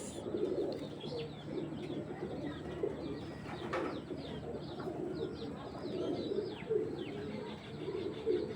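Female Bezi (Jabra Bezi) breed pigeon coos repeatedly in a low, throaty rhythm, with other birds chirping and faint wing flutters in the background, no talking.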